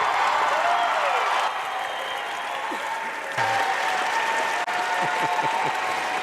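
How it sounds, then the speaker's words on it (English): Steady, dense applause from a large crowd at the 2022 Vegas Shoot archery tournament fills the whole stretch, loud and continuous, with a brief dip in intensity partway through. "The crowd loves this young archer, Bodie Turner."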